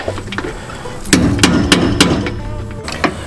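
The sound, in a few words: hammer tapping a socket to seat a trailer suspension bolt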